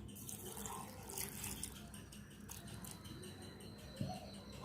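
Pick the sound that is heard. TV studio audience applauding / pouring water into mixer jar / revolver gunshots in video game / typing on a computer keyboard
pouring water into mixer jar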